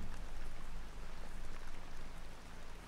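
Steady rain in the Arma 3 video game, a dense, even hiss of falling drops that continues unbroken and fairly quiet throughout.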